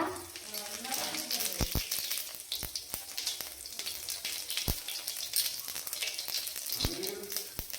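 Cumin seeds sizzle and crackle in hot oil for tempering in a Bengali kitchen, with a steady frying hiss and scattered sharp pops and clicks of utensils throughout.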